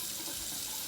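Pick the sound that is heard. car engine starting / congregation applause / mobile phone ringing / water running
water running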